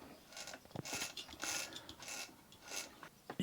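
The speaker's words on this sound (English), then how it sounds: "if you turn your machine like this, I'm just turning the hand wheel, the hook isn't turning" The hand wheel of a Singer 427 sewing machine with a broken gear is turned by hand, giving faint, close mechanical clicks and ratcheting ticks in an uneven rhythm.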